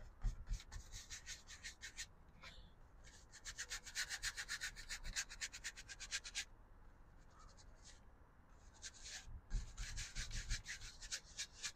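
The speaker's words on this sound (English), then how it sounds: "with the 2-inch, I'm just scrubbing in a basic" A 2-inch brush scrubs paint onto canvas in quick, dry bursts of bristly rubbing, faint and close, broken by short pauses between strokes.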